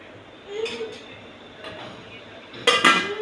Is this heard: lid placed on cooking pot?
yes